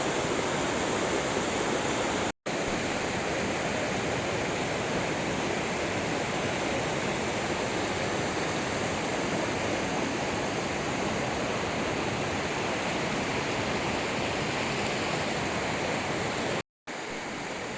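The Rangit river rushes past a homestay at Relling in the Darjeeling hills, a dense, unbroken roar of flowing water holding steady and fairly loud throughout, with no voices.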